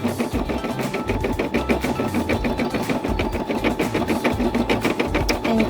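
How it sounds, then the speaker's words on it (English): A Brother SE600 embroidery machine stitching a design runs in a steady, fast mechanical rattle with a constant motor hum, close and continuous throughout. "There's something just so relaxing about the sound of an embroidery machine."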